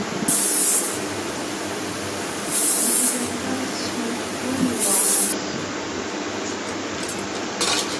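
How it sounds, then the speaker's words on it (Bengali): A pressure cooker cooking beef vents in three loud, sharp bursts of high hissing whistle, evenly spaced over a low background rumble, with a final longer steam release. "এবার প্রেশার কুকার মুখ লাগিয়ে দিয়ে ঢাকনা লাগিয়ে দিয়ে চার থেকে পাঁচটা শীষ আমরা দিব"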